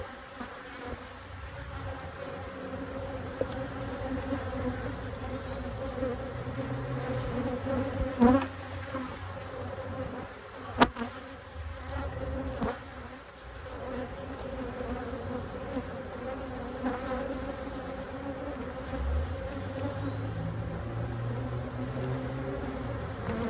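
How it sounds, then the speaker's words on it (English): Honey bees stream out of an opened hive during an inspection, producing a continuous close buzzing drone with individual insects zipping past the ear now and then, a couple of sharp knocks standing out. "Every bee that you see shoot out of there really fast, that is them coming at me"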